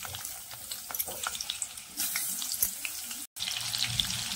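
Sliced onion hits hot oil with bloomed cumin seeds for tomato rice, producing a steady, close, hissing sizzle with a brief break near the end.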